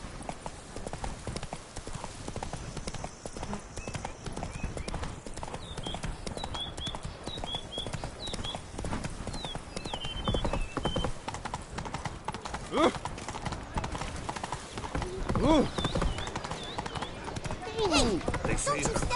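Roach, a horse in the video game Witcher 3, gallops with steady clip-clop hoofbeats throughout, close and prominent, under game music and ambient sound, with some chirps overhead.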